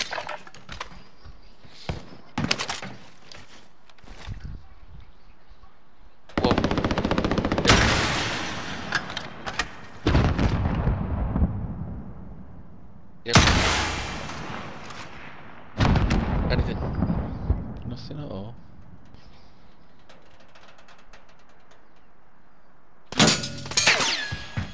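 Gunfire and explosions in the video game Call of Duty: Modern Warfare, with repeated loud bursts and booming blasts separated by quieter stretches, some distant rumble between them.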